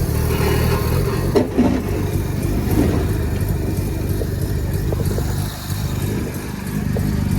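Rotary-engine trike running with a cover on its exhaust, a loud, continuous, buzzy engine drone with slight wavering pitch and a short dip near the end.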